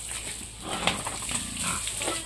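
Pigs on a backyard hog farm drinking water: steady splashing and running water with soft snuffling and faint grunts, close up under a constant high hiss.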